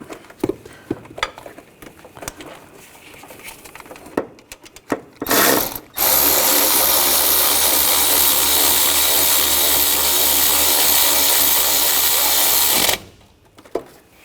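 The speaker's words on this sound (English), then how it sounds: "Tighten these bolts down up top." Intake manifold bolts on a 2004–2012 Chevrolet Colorado 3.7L are tightened: scattered clicks and clanks of tool handling, then a loud, sustained whirring drive of a power ratchet or drill running for about seven seconds before stopping, followed by faint clicks.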